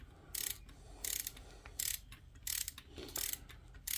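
A torque wrench ratchets while tightening top end bolts on a Yamaha XL800/GP800 waverunner, with short bursts of quiet metallic clicking repeating at a steady pace against a low background hum.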